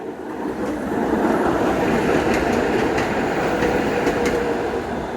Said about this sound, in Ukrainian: Тому що тут трамвай їхав.